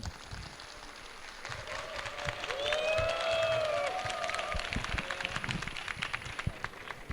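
Audience applause and some cheering in a large hall at a developer conference in COEX, Seoul, welcoming a guest onto the stage; steady broadband clapping that swells near the middle and runs throughout, with faint tonal sounds and voices underneath.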